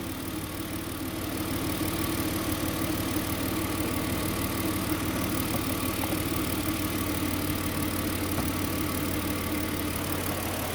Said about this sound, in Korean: 엔진 소리가 지금 보면 750rpm 됐을 겁니다